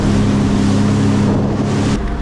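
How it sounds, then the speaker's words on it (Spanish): Jet ski engine droning steadily while riding on the sea off Menorca, loud and close with wind and water rush, no talking. "nosotros vamos en moto de agua"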